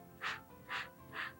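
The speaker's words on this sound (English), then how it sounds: "let's try that with the 3 sniffs a couple times" Three short, quiet nasal sniffs, evenly spaced about half a second apart, taken as part of a breathing exercise, with a faint background hum.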